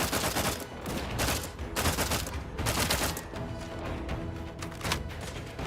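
Rapid video-game gunfire in dense, overlapping bursts, loud and continuous across the whole stretch with brief swells of heavier shots and no talk over it.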